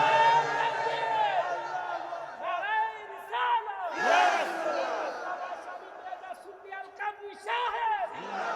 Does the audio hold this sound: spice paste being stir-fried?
no